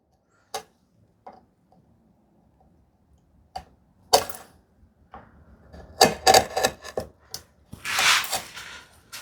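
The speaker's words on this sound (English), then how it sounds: "Maybe a better idea to go with a thinner chisel to begin with, so less resistance." A thin chisel works into wood for a desktop organizer, giving sparse, crisp taps and knocks in a quiet room, then a denser flurry of scraping and cutting bursts toward the end.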